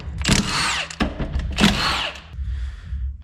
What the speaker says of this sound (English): With a 10 mil, we're going to take our front seal bolts off.